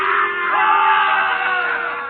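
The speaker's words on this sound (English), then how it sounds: "The crowd encouraged to jeer at the man of truth." Crowd of voices jeering and shouting in a courtroom scene of a 1939 radio drama, a dense continuous roar of yells and boos lasting about two seconds, loud and steady.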